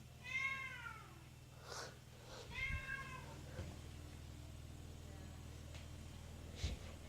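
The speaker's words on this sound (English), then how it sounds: "Okay Google, play cat sounds." Recorded cat meows played through a Google smart speaker, two clear drawn-out meows near the start and faint shorter cries after, quiet against a steady low hum.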